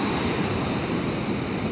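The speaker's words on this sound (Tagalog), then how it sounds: "Ang lalaki ng alon guys." Large sea waves surge and roar along a shore under an overcast sky, a dense, unbroken wash of rushing water heard close and loud without any voices.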